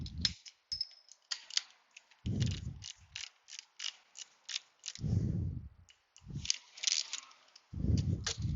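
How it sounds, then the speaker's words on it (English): Torque wrench ratcheting as bolts are tightened on a 2012 Ford Explorer with the 3.5 engine, close up: bursts of rapid clicks alternate with heavier knocks and short pauses throughout. "Now I'm going to go ahead and grab my torque wrench and torque those to the 22 to 25 foot-pounds."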